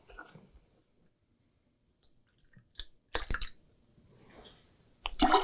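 One ounce of pure grapefruit juice is poured into a glass for a grapefruit and rose martini, giving short close splashing, liquid bursts separated by quiet pauses.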